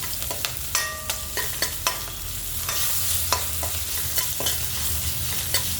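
Salted green chilies fry in a pan with a bright, continuous sizzle, punctuated by frequent sharp clicks and scrapes as they are stirred close up.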